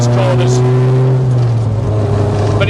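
A Mk2 Volkswagen Golf GTI with firm suspension driving a twisting British B road, its engine droning loud and steady from inside the cabin, the pitch easing slightly as it holds speed.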